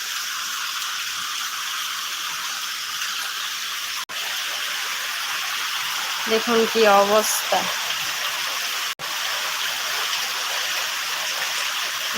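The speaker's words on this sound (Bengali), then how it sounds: "একটা অনবরত বৃষ্টি হচ্ছে দেখুন একটুও থামছে না বৃষ্টি" Heavy rain pours in a dense, unbroken hiss throughout, while a voice speaks briefly partway through.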